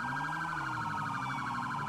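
Police siren in a roleplay video game, a steady wailing tone cycling rapidly up and down at a moderate distance, with no talk over it.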